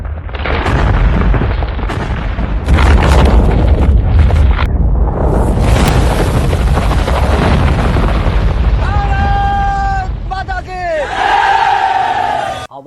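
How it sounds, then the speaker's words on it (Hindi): An underground nuclear test explosion in the Indian desert that throws sand into the air: a long, heavy, low rumbling roar fills the whole stretch, loud throughout, with crowd-like shouting and wavering tonal cries rising near the end. "कुछ ही सेकंड में एक विस्फोट की आवाज आई"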